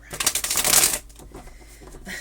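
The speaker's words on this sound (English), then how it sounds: "I'll shuffle a little bit more." Tarot cards being shuffled by hand, a dense burst of riffling flutters for about a second, then quieter scattered slides and taps of the deck.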